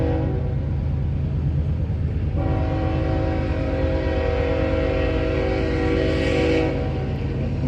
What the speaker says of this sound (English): Tell me there's another train coming already.